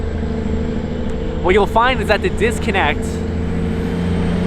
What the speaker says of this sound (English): Sorry, a lot of trucks out here.